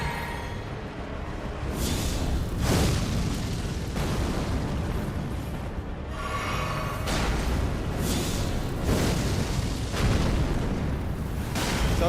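Jar cannon explosions in Elden Ring, a string of loud booming blasts landing every second or two, with crackling debris between them and no voices.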